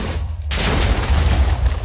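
A TNT blast in Minecraft bursts suddenly after a quiet moment, followed by a loud, rumbling chain of overlapping booms that stays dense and heavy to the end.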